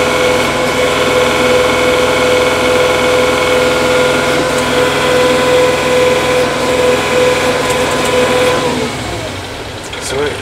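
A Kubota L4060 tractor with cab runs steadily while its front loader lifts a load of about 2,500 pounds, a loud continuous droning engine hum that eases slightly near the end, with a voice talking over it.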